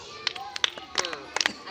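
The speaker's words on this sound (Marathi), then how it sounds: "टाळ्या वाजव तिच्यासाठी." Several short bursts of clapping from schoolchildren in a second-grade classroom, scattered and uneven rather than in unison, with a faint voice underneath.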